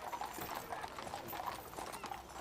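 Horses' hooves clip-clop in a steady rhythm as they draw a carriage in a silent funeral procession for Princess Diana outside Westminster Abbey, the sharp hoof strikes repeating throughout.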